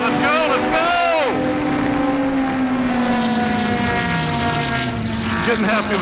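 A formula racing car engine screams while driving fast, first dropping sharply in pitch, then holding a loud, sustained drone that slowly sags, with some vocal sound over it.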